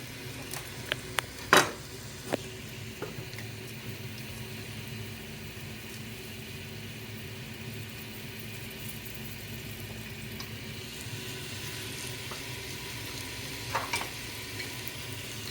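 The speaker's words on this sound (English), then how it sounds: "let's put the onions and peppers in there." Onions and peppers fry in hot oil in a pan, a steady moderate sizzle throughout, with a few sharp utensil clicks early on and another near the end.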